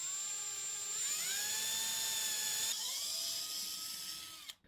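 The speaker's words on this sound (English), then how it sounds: "I'm going to drill my pilot hole first." A drill spins at high speed while boring a pilot hole into a clamped wooden leg for a small wine rack, a steady whining tone that shifts pitch partway through and stops abruptly at the end.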